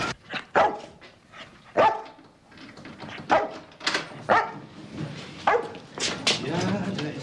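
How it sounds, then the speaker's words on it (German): A dog barks repeatedly in a kitchen scene from a crime drama, sharp close barks spaced irregularly across the stretch, mixed with some whimpering yips and occasional background voices. "Ja, da ist ja mein Hund."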